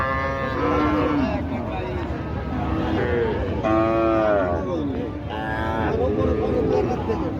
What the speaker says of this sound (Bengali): এগুলো শাহিওয়াল গরু